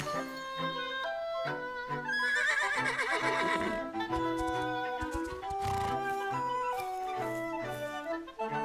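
A horse neighs and whinnies repeatedly in The Legend of Zelda: Echoes of Wisdom over a steady musical background, the calls loud and close.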